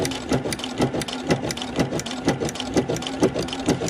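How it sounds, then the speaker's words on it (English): Sewing machine running a straight stitch with a ruffler attachment fitted, a steady fast rhythmic mechanical whir with regular periodic clacks of the pleating mechanism, close and continuous with no talking. "now I'm just going to sew"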